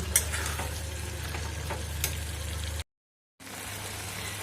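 A bean and mung dal curry simmers and sizzles in a pan, a steady frying crackle with a low hum beneath and a few sharp clicks, broken by a short silent gap before resuming.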